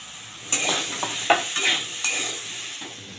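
Potatoes frying in a pan as salt and chopped tomato are added, a bright continuous sizzle broken by several sharp spoon scrapes and stirring strokes.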